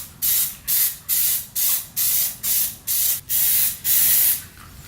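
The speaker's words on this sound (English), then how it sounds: "so I've gone through 1 can of paint on both of this side of the wheels" Spray paint can used for plastic-dipping KTM 390 Duke motorcycle wheels, heard as nine loud, close hissing bursts, each about a third of a second long, separated by short gaps in a steady rhythm.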